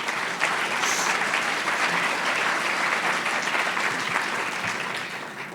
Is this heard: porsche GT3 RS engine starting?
no